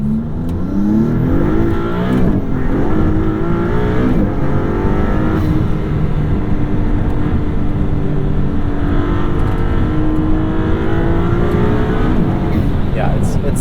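A 2022 Maserati MC20 engine revs and accelerates hard, a loud sustained drone with rising and falling pitch sweeps, while people talk over it.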